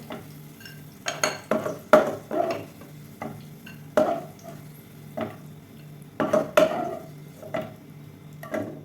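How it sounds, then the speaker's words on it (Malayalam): A spoon scoops fried almonds and raisins out of oil in a pan with the flame off, making a string of close metallic scrapes and clinks in uneven bursts over a faint leftover sizzle. "ഇനി നമുക്കിതൊക്കെ ഇതിന് കോരി മാറ്റാം."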